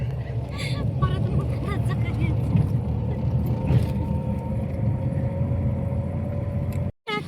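A car's engine runs with a low, steady hum throughout a road trip to a village temple, heard under continuous talk and cutting out briefly near the end.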